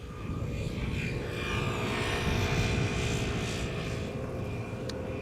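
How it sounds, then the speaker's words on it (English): An outbound KLM Boeing 737 passes overhead at Amsterdam Schiphol Airport, a sustained loud jet roar that swells slightly in the middle and stays steady without talk. "Overhead 737 by the looks of it, KLM outbound."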